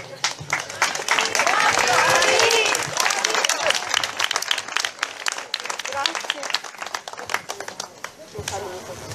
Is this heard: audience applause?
yes